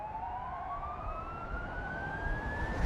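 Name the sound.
air raid sirens wailing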